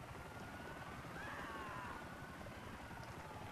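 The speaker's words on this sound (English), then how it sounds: "Right, we've got a chopper." Faint, continuous helicopter drone in GTA IV during a police patrol, a low steady rumble with a brief swelling whine in the middle, no talk.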